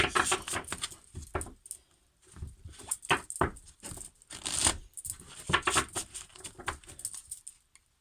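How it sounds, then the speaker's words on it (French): A deck of oracle cards is shuffled by hand, giving close, uneven bursts of riffling and flicking card noise separated by short pauses, with no voices. "Alors, attendez, je vais brasser."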